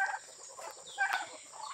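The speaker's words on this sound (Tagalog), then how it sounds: "Yan yung pabo namin." A farm turkey on a free-range farm calls in a few short bursts, the loudest near the middle, fairly close and moderately loud, with no talk.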